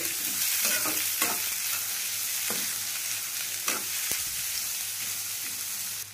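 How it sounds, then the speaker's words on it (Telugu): Raw sweet corn is stirred into a sizzling samosa filling in a pan, a continuous close frying hiss broken by scattered scraping strokes of a spoon. "ఒక కప్పు స్వీట్ కార్న్ పచ్చివే ఉడకబెట్టలేదు ఇవి ఒకసారి మనం మొత్తం కలుపుకోవాలి"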